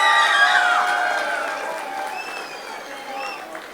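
Audience applause for a band at a concert opening the Festival of Wind in Tivat, a dense clatter of clapping that stays steady then slowly thins toward the end, with some cheering.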